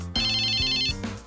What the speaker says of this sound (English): Can you count how many times I let it ring before it goes to voicemail?